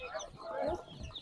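Chickens cluck and cheep at a busy poultry market where chicks and ducklings are sold, faint and mixed with background chatter from people nearby.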